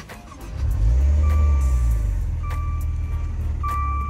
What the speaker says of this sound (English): So now if we start up the car,